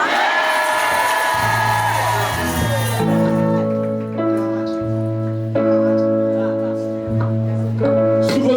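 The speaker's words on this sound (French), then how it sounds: "Sous vos acclamations" A church congregation at a night vigil cheering and acclaiming loudly, whoops and shouts rising over sustained singing and music, with a voice speaking on top.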